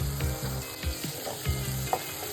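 Chopped medium tomato pieces and ridge gourd frying in hot oil for a birakaya pesarupuppu curry, with a steady close sizzle broken by a few soft stirring knocks and scrapes, no voices.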